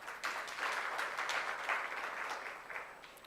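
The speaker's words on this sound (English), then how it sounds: "A round of applause for our panelists." Audience at a conference applauds its panelists, a steady wash of many hands clapping at moderate distance, sustained for a few seconds before tapering slightly.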